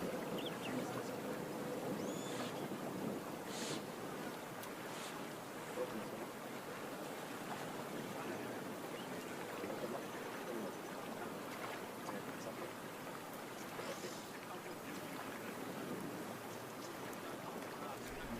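Steady, continuous rush of the Mara River flowing past its banks in the Masai Mara, a broad wash of moving water that holds an even level throughout with no clear voices over it.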